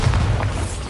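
A Bombarda spell going off in Hogwarts Legacy, a single loud, close, booming blast with a deep low rumble that fills the moment without a pause.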